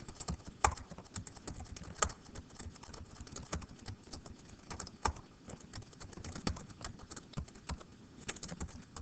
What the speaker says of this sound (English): So type your words. You can push tab to go to the next one.